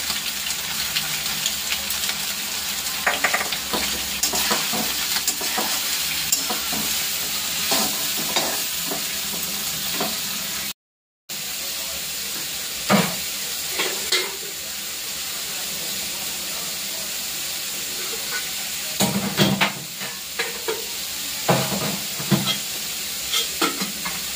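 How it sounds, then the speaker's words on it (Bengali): Steady loud sizzling of soybean chunks frying in a pan, with repeated scraping and clatter of a spatula stirring them around, nearby and continuous with a brief dropout. "এখন সয়াবিনটা দিয়ে দেব। ভেজে নেব ভালো করে"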